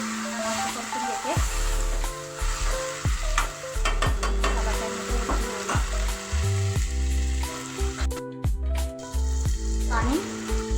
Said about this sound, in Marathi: परतून घेते।